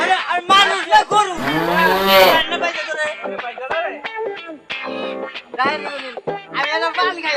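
A cow moos loudly and close by, one long drawn-out low call, heard amid ongoing people's chatter in a village setting.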